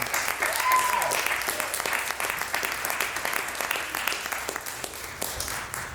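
A concert audience at a jazz night claps steadily for the guitarist, a dense sustained applause throughout with scattered individual claps near the end.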